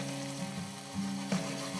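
White wine poured into a hot pan of frying garbanzo beans, giving a steady close sizzle with brief bursts of hissing as the liquid hits the oil.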